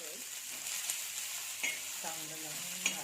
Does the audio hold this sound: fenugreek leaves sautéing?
yes